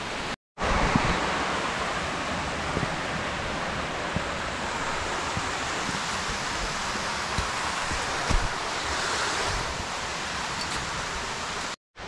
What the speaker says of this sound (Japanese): 何の滝やっけ、大黒の滝